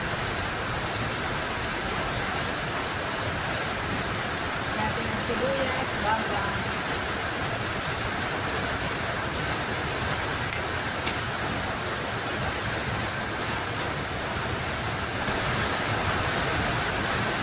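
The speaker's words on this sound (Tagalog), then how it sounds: "Grabe ang ulan. Buhos na buhos na naman." Heavy rain pours down in a steady, dense hiss throughout, while a person talks over it.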